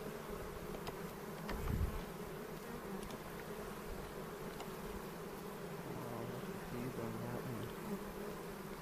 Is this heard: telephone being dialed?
no